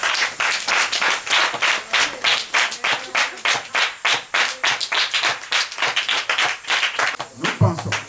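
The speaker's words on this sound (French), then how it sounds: "Applaudissez pour cette compagnie." Applause from an audience honoring the charity company Actions d'Amour during an orphanage visit, heard as a steady stream of individual claps that fades out near the end.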